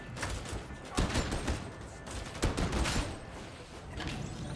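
Gunfire from the video game Warhammer 40,000: Darktide, played as an Ogryn, with a dense, fast run of bursts and sharp cracks of moderate loudness that keep going throughout, with some speech mixed in.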